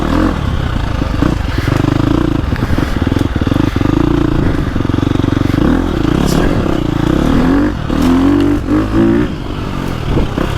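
A loud 2025 KTM 350 XC-F four-stroke dirt bike engine runs continuously, its pitch rising and falling as the throttle is rolled on and off, with some rattling clatter.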